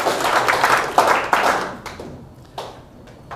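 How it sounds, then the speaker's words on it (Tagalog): A church congregation claps for the Lord in bursts of hand applause, scattered sharp claps rising over a busy crowd wash that thins toward the end, with no talk. "Malakas nga ng palakpak para sa Panginoon!"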